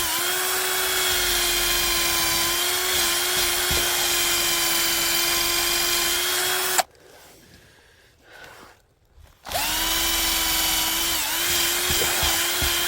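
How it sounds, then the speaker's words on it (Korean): A hand-held wood hole-boring tool drives a hole into wet, dense soil, giving a steady loud grinding whine that drops away for a few seconds mid-way, then resumes. "이거는 이제 드릴이 아니고요. 아, 이렇게 나무 구멍 뚫는 도구예요."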